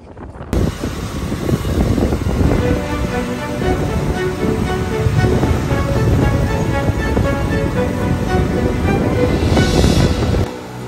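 Sea waves at a pier in Negros, a loud, continuous wash of surf churning with gusty wind buffeting the microphone, steady from start to finish before easing slightly at the end.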